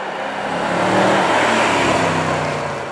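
A 470-horsepower Jaguar XJ Supercharged luxury sedan accelerating hard, its engine note rising and swelling into a loud, sustained roar, close by.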